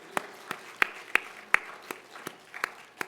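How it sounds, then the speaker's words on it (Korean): Church congregation clapping during a Sunday worship service, a sparse series of separate sharp claps, about a dozen over a few seconds, moderately close with no talking. "주님께 영광의 박수 올려드립니다."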